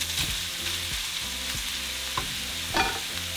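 Diced potatoes and crumbled chorizo fry together in a pan for papas con chorizo, a steady close sizzle broken by occasional stirring scrapes and clinks, with no voices.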